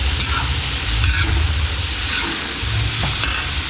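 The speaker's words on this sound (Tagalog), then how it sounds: "Yan bawang sibuyas, maglalagay na tayo rito." Garlic and onion sizzle in a large catering pot, giving a steady, dense frying hiss with low rumbling stirs and a few scrapes throughout, close and fairly loud, with no talk.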